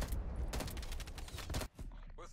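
An FFAR 1 assault rifle in Black Ops Cold War team deathmatch fires loud, close, rapid automatic bursts that stop abruptly near the end, followed by faint in-game sounds.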